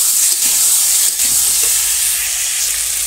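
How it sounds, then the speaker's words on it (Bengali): Frying in a pan in a village kitchen while gourd cooks before spices go in for a thin fish curry, a steady close sizzle and hiss with faint stirring scrapes, no talk. "ভাজাটা প্রায় হয়ে যাবে, আর অল্প একটু হবে"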